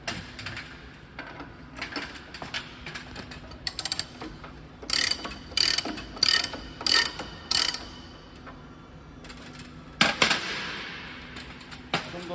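Ratcheting clicks and gear mechanism noise from adjusting the tension on a GMC 500A spring balancer, 60 kg medium-load HD model, coming in repeated bursts of close, crisp clicking with pauses between.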